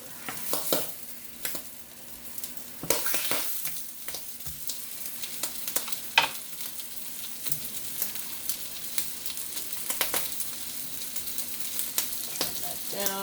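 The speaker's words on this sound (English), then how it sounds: "fry up 2 pieces of Canadian bacon" Two pieces of Canadian bacon frying in a pan, a steady crackling sizzle with scattered pops and occasional louder bursts, close and continuous with no talk.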